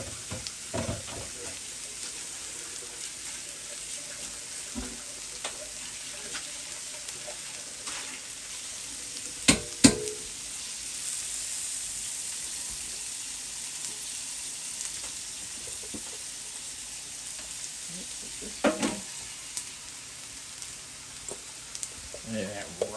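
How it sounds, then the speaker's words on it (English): Continuous hissing sizzle of teriyaki chicken frying on a hot flat top grill, with occasional scraping clinks of a utensil and faint voices in the background. "Sizzling up over there."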